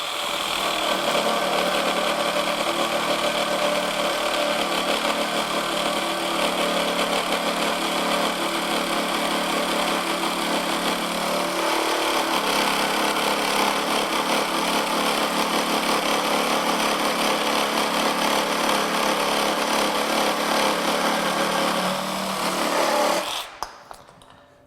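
A Ridgid Gen5X reciprocating saw cutting through wood in non-orbital mode, a loud, steady buzzing rasp that runs continuously for over twenty seconds, then stops abruptly.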